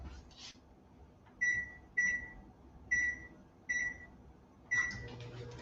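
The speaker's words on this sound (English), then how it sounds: "Just going to heat it up in the microwave." Microwave oven heating mashed butternut in a home kitchen, giving five short, evenly spaced electronic beeps over a low background hum, fairly close and clear.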